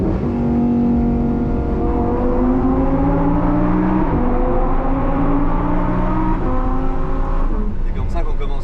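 A Lamborghini Huracan engine revs hard and loud up close, climbing through several gears in rising sweeps with brief drops between shifts, then easing off at the end.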